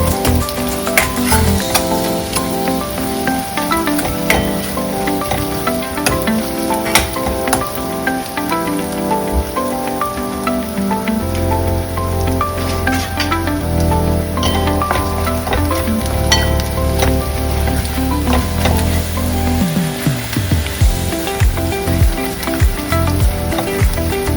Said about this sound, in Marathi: लसूण अद्रक पेस्ट 2 चम्मच. त्याला पण छान असं परतून घ्यायचं आहे.